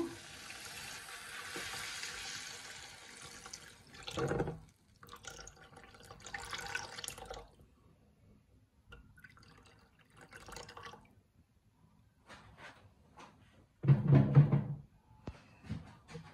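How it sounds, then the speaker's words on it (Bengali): Water is poured and drips into a pan for a small fish curry with orange peel, a trickling pour first, then scattered drips and splashes with quiet pauses and a louder burst near the end. "তো এখন একটু পানি দিলাম কেন,"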